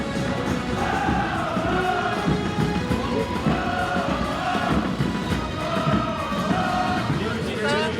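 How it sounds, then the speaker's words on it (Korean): Stadium crowd at an FC Anyang football match, cheering and applauding steadily as the players walk onto the pitch, a dense continuous roar with rising swells of voices and no clear gaps. "팬 여러분, 우리 선수들을 다같이 뜨거운 박수와"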